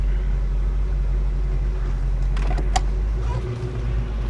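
Mercury Cougar fitted with a Mustang exhaust kit driving around the block, giving a steady, mellow low rumble from inside the car with a few brief rattles partway through.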